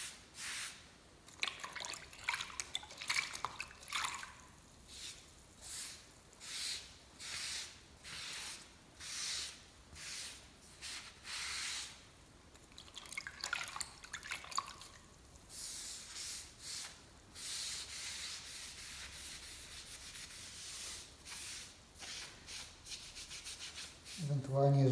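Leftover tile adhesive is rubbed and washed off ceramic tiles with water, giving a steady run of wet scrubbing and swishing strokes, close and fairly quiet, with no talking.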